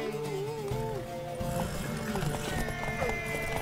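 Clopping horse hooves and a whinnying neigh come from The Witcher 3 before a horse race, with rapid hoofbeats throughout under game sounds and voices.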